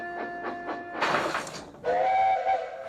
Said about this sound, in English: That's a different whistle I hear.